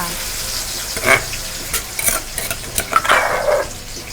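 Chili paste for nam prik ong stir-fried in a pan, with soft sizzling and a few scattered scrapes and clacks of a utensil against the pan over several seconds.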